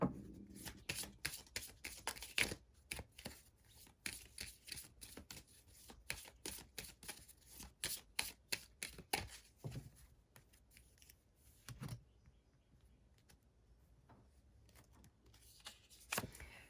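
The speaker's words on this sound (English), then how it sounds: "let's draw a couple more Reiki cards for you" Reiki tarot cards being drawn and shuffled by hand make a run of crisp, irregular flicks and riffling taps close to the microphone, busy at first and then thinning into scattered snaps, with no voices.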